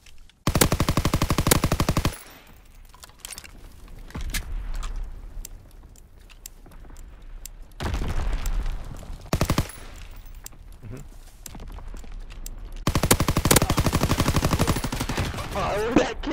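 Machine gun fire in a WWII shooter game comes in long, loud, rapid bursts near the listener, separated by quieter stretches of game ambience and a few single shots.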